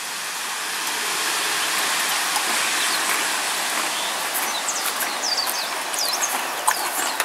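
Steady rain pouring with a dense, hissing wash, while faint bird chirps come through near the end.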